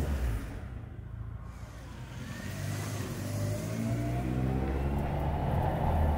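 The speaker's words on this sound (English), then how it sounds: "it doesn't get more Welsh than driving a Mk2 Escort around these rural roads" An MST Mk2 Escort-style car drives along rural Welsh roads, its engine note rising steadily as it accelerates through the gears, heard fairly close and alone, with a smooth, building drone.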